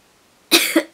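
Two sharp coughs burst out close by after a second of near silence, followed by the start of another.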